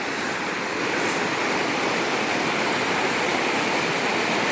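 Rushing, crystal-clear stream water in the Catskill Mountains wilderness, a loud, steady, close roar of flowing water that continues unchanged throughout with no voices.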